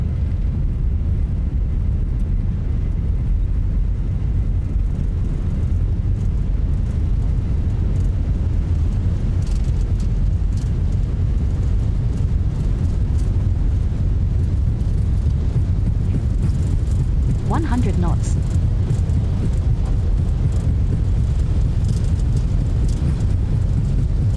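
Airbus A321 engines at takeoff thrust in Microsoft Flight Simulator 2024 produce a steady, loud low roar that holds constant throughout, with a faint brief mechanical sound midway.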